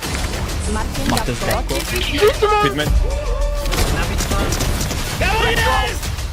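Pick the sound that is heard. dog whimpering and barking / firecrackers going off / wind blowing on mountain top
firecrackers going off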